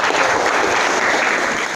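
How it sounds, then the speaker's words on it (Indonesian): Vocational automotive students at SMK Negeri 1 Gombong applauding in class, a brief dense burst of clapping with some voices mixed in, cutting off abruptly. "Tepuk tangan untuk kalian."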